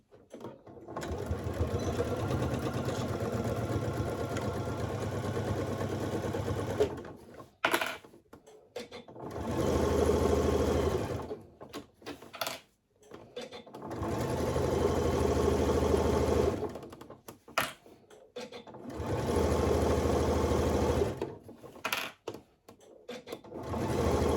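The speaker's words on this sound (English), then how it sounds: "put that again back under the sewing machine, line up your needle and sew all the way down" A sewing machine runs in several long bursts of rapid mechanical stitching while sewing a makeup bag, separated by brief pauses, close and fairly loud.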